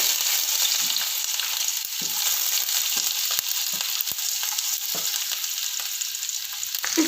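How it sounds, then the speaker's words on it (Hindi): Ginger and garlic frying in hot oil, a steady continuous sizzle throughout with occasional soft stirring knocks, close and fairly loud, no voices. "इसे हम थोड़ी देर अभी अच्छे से फ्राई कर लेंगे"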